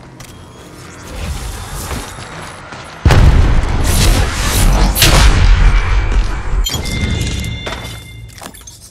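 Gunfire and explosive crashes in the mobile battle royale game Apex Legends Mobile, a quieter stretch giving way to a loud, sustained barrage of shattering booms and thuds.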